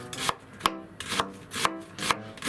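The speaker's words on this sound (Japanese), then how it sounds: "こちらは薄くスライスしてください。" An onion being thinly sliced with a knife on a cutting board, five crisp close chops in a steady even rhythm with no talk.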